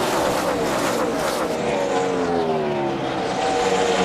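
NASCAR stock cars at the 2005 UAW GM Quality 500, engines roaring past in a loud, continuous blur with falling pitch as they sweep by on the track.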